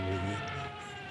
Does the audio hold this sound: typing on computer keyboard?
no